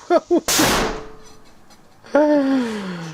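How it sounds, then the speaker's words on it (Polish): A firecracker bursts loudly and sharply, set off through a window fitted with a mosquito net, with a short echoing decay; brief vocal sounds precede it and a voice cries out right after. "odpalanie petard przez okno tak się kończy, kiedy ma się zamontowane moskitiery"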